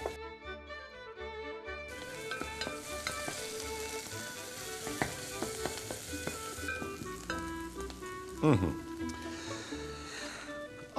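Onion sizzles steadily as it fries in a pan for an Armenian veal dish, crackling fairly loudly and continuously, with a sharper burst of frying and clatter near the end and some faint background sound.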